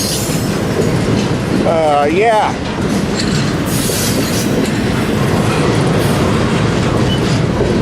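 A train rolls past a drawbridge crossing at close range, loud and continuous, with wheels squealing briefly and steady rail clatter throughout, while a voice briefly speaks.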